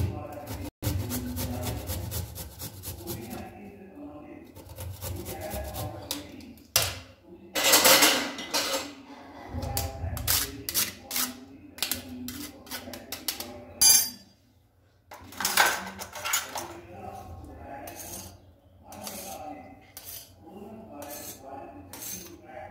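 Fresh ginger is rubbed against a metal grater in a home kitchen, giving bursts of scraping strokes broken by pauses and clinks of utensils, with someone talking at intervals.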